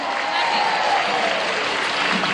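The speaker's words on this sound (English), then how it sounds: "So let's have a big warm-up cheer for Bubbles!" A marine park audience claps and cheers for a performing dolphin, a dense steady wash of applause and crowd noise lasting the whole moment without letting up.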